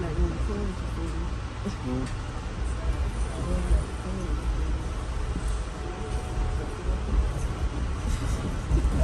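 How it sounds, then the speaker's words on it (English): Rumbling train interior noise with low rattling and clatter, voices murmuring faintly over the steady ride sound. "So we can sit back and enjoy the train ride"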